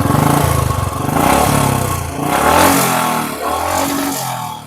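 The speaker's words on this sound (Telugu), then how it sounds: "ఒకసారి ఇంజిన్ స్టార్ట్ చేసి చూపిస్తాను" A Royal Enfield motorcycle with its engine in good working condition runs close and loud, with a rhythmic mechanical thump and rising revs that settle back toward idle.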